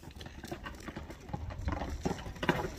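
Horse hooves clip-clop at a Kyrgyz kok-boru (ulak) horse event, a run of uneven hoof strikes near the microphone over crowd murmur and outdoor noise.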